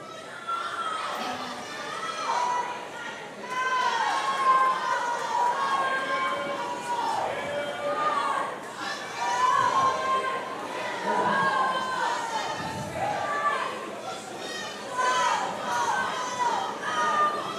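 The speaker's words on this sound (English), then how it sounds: "You see the teammates there cheering her on." Teammates at a swim meet cheer and shout for a swimmer, a busy crowd roar of young voices with whistling calls, mixed with a commentator's steady talk and pool-hall echo throughout.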